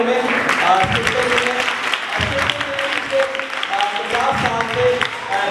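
An audience at a Bible study event claps steadily, a dense, lively patter of applause, while a few voices call out over it.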